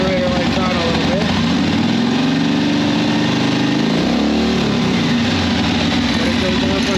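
The engine of a 1981 Harley-Davidson Sportster motorcycle idles with a retrofitted generator and old regulator, a loud, steady, close rhythmic thrum that dips slightly partway through and then settles.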